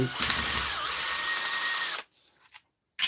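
A power driver backing dirty screws out of a device on a repair bench: a loud continuous whir for about two seconds, then silence broken by brief faint clicks and a short final burst of the motor.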